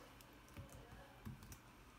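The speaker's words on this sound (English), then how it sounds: "In the box at the top we need to type in the model number." Quiet clicking of a computer keyboard as a printer model number is typed during Canon Pixma TS3400 series Wi-Fi setup, a few soft, irregular keystrokes close by with no talk.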